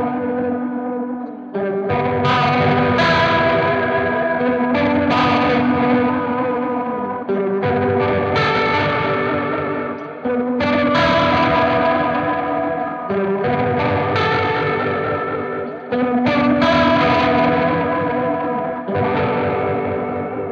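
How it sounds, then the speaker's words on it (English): Distorted synth-like guitar tone through a Neural DSP Archetype Gojira amp plugin with chorus, reverb and delay, played as loud sustained chords in rhythmic phrases that swell and cut off repeatedly. "We've got the chorus engaged, and then yeah, reverb and delay."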